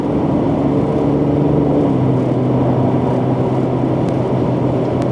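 A 2017 Mercedes-Benz GLE 450 AMG with a nine-speed automatic accelerating, heard from inside the cabin as a steady, loud engine drone with a shift partway through.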